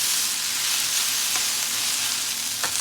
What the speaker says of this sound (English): Look how delicious my stir fry is coming out